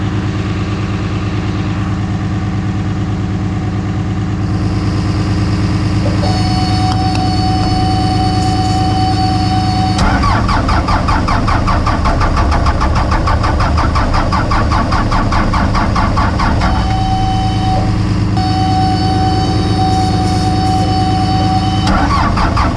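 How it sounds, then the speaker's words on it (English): A skid steer engine cranks with ether sprayed in, its starter churning steadily and loudly up close for a long stretch with no clean catch and start. "I'm gonna put a little bit of ether in there and try to crank it."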